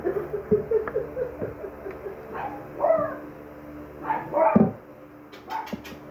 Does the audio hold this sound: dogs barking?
yes